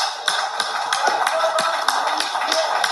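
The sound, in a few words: clapping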